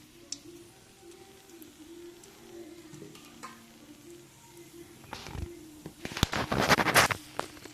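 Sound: whole garam masala, cinnamon, cloves, cardamom sizzling in hot oil

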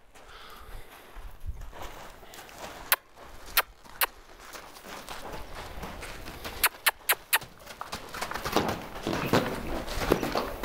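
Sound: horse walking loose, hooves clip-clopping

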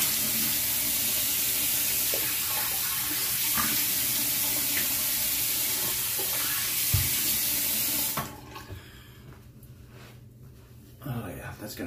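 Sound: water running while rinsing off after a shave

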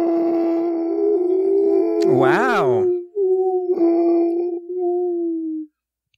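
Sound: person imitating a whale sound

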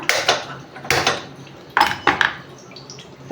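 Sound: pot being placed on a stove

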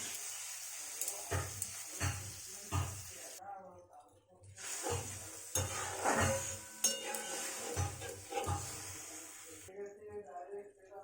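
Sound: onion and grated potato frying in a pan

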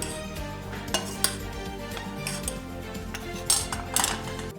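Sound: keşkek being spooned onto plates

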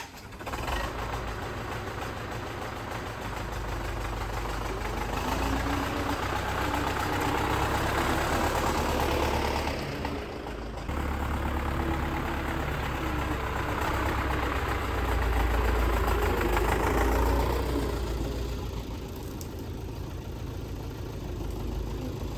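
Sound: YuMZ-6 tractor engine idling

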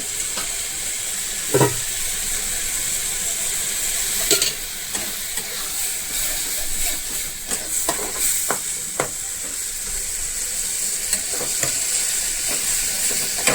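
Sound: tomatoes frying in oil for roasted eggplant bharta

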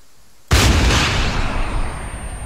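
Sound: gunshots in the video game ArmA

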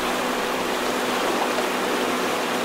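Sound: river rapids rushing water in the video game Call of the Wild: The Angler

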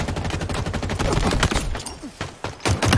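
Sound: gunfire in Halo Infinite video game

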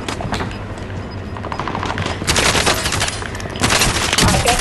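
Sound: gunfire in the Call of Duty Warzone video game

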